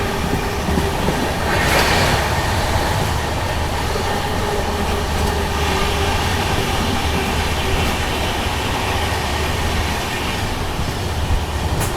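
A Jaipur-Mumbai nonstop special train rolls along at speed, a loud steady rumble and rattle of wheels and carriages heard from on board, continuous with no voices.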